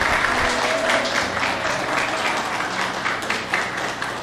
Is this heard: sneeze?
no